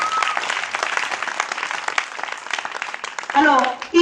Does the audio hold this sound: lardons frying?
no